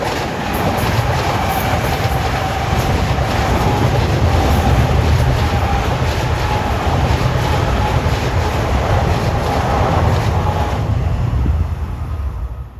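Long Island Rail Road M3 electric trains roll past on a triple-track line at twilight, a loud, continuous rumble with rhythmic wheel clicks and a faint steady whine, holding close for several seconds before starting to ease off.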